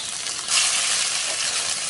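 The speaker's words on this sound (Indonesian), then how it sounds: "Setelah ini kita akan masukkan bumbu yang sudah tadi kita haluskan." Ground spice paste hits hot oil in a wok and sets off a sudden loud, bright sizzle that carries on steadily up close.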